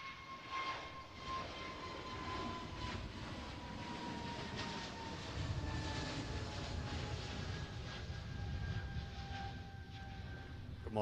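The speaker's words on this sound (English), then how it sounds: "Scandi Neo on the rotation any second now." A Scandinavian A320neo airliner rotating on takeoff at Manchester Airport gives a distant, steady jet engine roar with a whining tone that slowly drops in pitch, heard alone and fairly faint.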